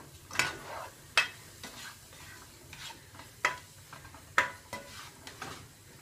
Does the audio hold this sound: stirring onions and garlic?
yes